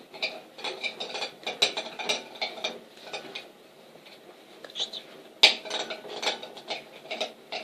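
A spoon stirs homemade slime in a bowl, making a steady run of soft clicks and sticky scraping taps, close and fairly quiet, with one sharper knock near the end.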